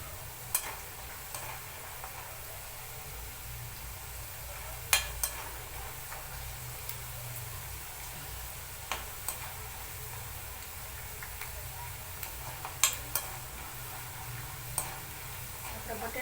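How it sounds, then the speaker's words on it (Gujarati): Potatoes frying in a pan while being stirred, a soft continuous sizzle broken by scattered clicks and taps from the stirring, quiet and steady. "આપણે બટેટા છે બ્રાઉન થાય ત્યાં સુધી ઓલું કરશું, હલાવશું, તળવા દઈશું"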